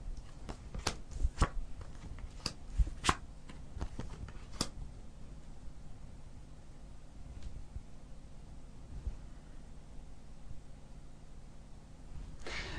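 Tarot cards are shuffled and drawn, giving a quick burst of crisp riffling snaps and soft slaps early on, then fainter rustling and handling over a quiet hiss.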